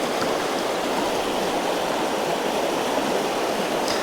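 A big river flows in a steady, unbroken rush of water, loud and close, with no voices.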